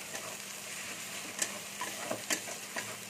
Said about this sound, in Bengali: রসুনটা একটু ভেজে নিচ্ছি। আদা বাটাটাও আমি দিয়ে দিচ্ছি, তো এটা একটু ভেজে নেবো।